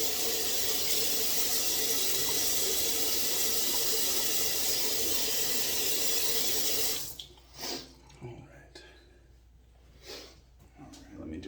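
Bathroom tap running into a sink as a man rinses his face after a wet shave, a steady hiss of water for about seven seconds, then cut off, leaving soft splashes and rubbing sounds.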